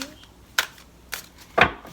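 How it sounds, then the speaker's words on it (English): Tarot cards being shuffled by hand during a reading: three short, crisp riffling bursts spaced about half a second apart, close and fairly loud against a quiet background. "Okay, shuffle it one more time this way."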